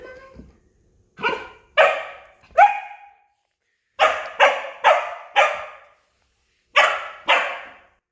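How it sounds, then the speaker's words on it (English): An adolescent doodle barks in frustration, not aggression: short sharp barks, nearby and loud, in spaced bursts with quick doubles and triples and pauses between. "It's not aggressive barking."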